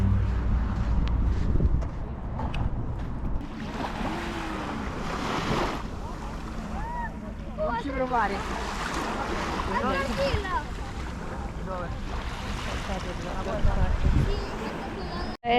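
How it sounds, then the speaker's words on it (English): Sea waves wash onto a beach near Rome, with steady surf and wind noise buffeting the microphone throughout, while people talk and exclaim over the water sound. "It's not even a very nice beach, it's a very nice sea."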